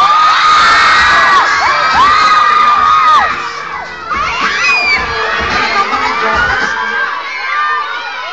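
A crowd of young people at an event shouts, screams and cheers loudly in high, excited voices, dipping briefly and then swelling again.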